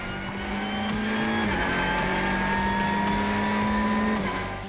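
Race cars roar through a rolling start in a Lamera Cup race at Nogaro, engines droning loud and steady with a sustained pitch that drops and climbs again as the pack accelerates, with no voices.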